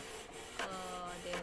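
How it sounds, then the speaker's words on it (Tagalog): A Canon PIXMA iP2870S inkjet printer running a print job, with a steady mechanical whir and the print head shuttling in short passes, heard close and alone at moderate level. "Magpiprint na tayo. I think old version na itong Canon na printer namin."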